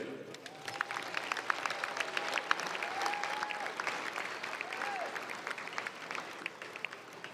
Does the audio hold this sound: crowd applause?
yes